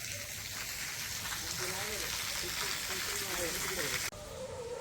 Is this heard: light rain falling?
yes